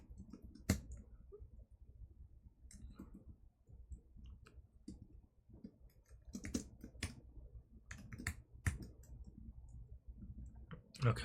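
Computer keyboard typing, a soft, close scatter of irregular key clicks with short pauses and occasional sharper taps.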